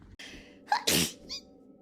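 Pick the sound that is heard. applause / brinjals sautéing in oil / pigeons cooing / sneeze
sneeze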